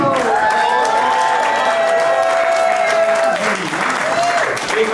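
Sustained audience applause at a community gathering, a thick wash of many hands clapping at constant volume, with a few voices and cheers rising through it near the end.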